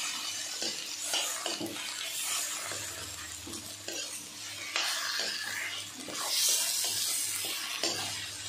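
Potatoes fry in masala in a pan while a utensil stirs and scrapes them, a continuous sizzle under repeated close scraping strokes and occasional metallic clinks.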